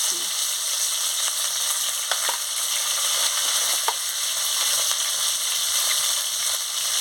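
Bitter gourd frying in hot oil in a home kitchen, a steady loud hiss of sizzling throughout with a few faint clicks of stirring, no talking.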